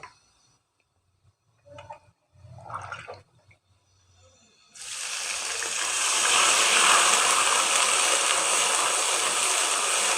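Water poured into a cooking pot of daal mash, a loud, steady hissing wash that starts abruptly midway and continues to the end, after a few quieter handling clinks.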